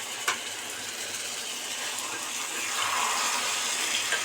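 Water from a tap pours into a bowl of mixed spices while cooking prawns with kochur loti, a steady close gush that swells slightly louder toward the end.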